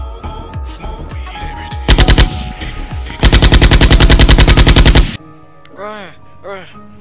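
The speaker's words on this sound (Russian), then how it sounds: "Там что-то происходит, я слышал выстрелы." Loud bursts of rapid gunfire rattle out in Garry's Mod, one short volley then a longer sustained automatic stream, followed by quieter game sounds.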